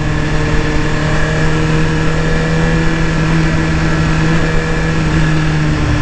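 A 2018 Suzuki GSX-R1000 motorcycle engine drones loud and steady while riding, a continuous close roar with wind noise and no talk.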